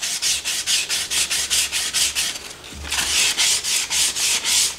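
Sandpaper rubbed by hand over the wooden seat of a mortise-and-tenon stool in rapid, even back-and-forth strokes, close and loud, with a short pause midway before the strokes resume, and no talk.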